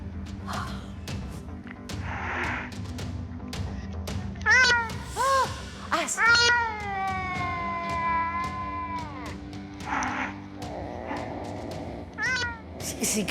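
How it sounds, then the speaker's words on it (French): Cats meowing in a home, several drawn-out, rising and falling meows from different animals, some close and loud, with shorter calls and scattered thumps between them and faint voices in the background. "J'entends les chats."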